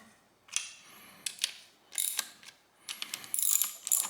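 Ratchet clicking in short bursts while bolts are tightened on a 1968 Pontiac GTO drivetrain during a rebuild, with several quick runs of metallic pawl ticks separated by pauses, close and fairly quiet.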